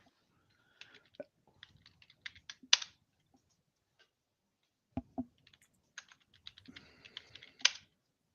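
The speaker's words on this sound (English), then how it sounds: "Now I just want to type my keyboard to sound like I know what I'm doing." Bursts of quick keystrokes on a computer keyboard, close and crisp, in two irregular runs separated by a short pause, with a few heavier key slaps.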